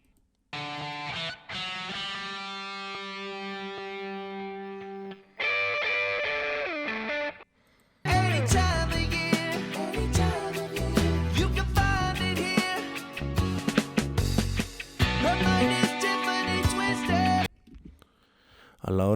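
Distorted electric guitar from a rock song, heard alongside another guitar and the full band. A sustained tone and a short break lead into a dense, loud section of gritty chords and riffs.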